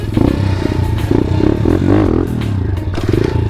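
A pit bike, likely a Grom, popping up into a wheelie: a close, loud single-cylinder engine blips and revs in short bursts, with mechanical clatter and a rising rev in the middle.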